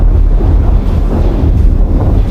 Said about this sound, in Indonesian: Aku rasa aku bisa merasakan angin.